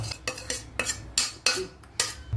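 Semiya vermicelli roasting in ghee in a pan, heard as a run of close, sharp metallic scrapes and clinks of a utensil against the pan, repeated in quick bursts with no talking.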